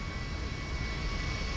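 A Boeing 727 jetliner in Grand Theft Auto V gives off a steady, loud broadband engine roar with a faint high whine, alone and unchanging for a moment.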